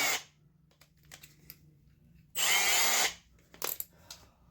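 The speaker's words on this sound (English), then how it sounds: "We're about to drill holes in a perfectly good roof." A power drill bores holes into the roof of a second-generation Dodge truck cab, one sharp whining burst of about a second, framed by quieter clicks and taps of handling nearby.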